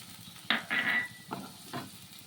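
Chicken is sautéed in a pan, quiet background sizzle interrupted by a few short bursts of stirring and frying hiss, close up and without voices.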